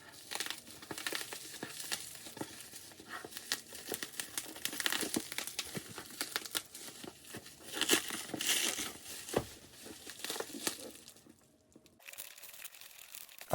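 Crinkly black plastic packaging being pulled and torn away from a Ubiquiti UniFi UDR7 router, a close, steady run of rustling and crunching with louder bursts, ending abruptly in near quiet.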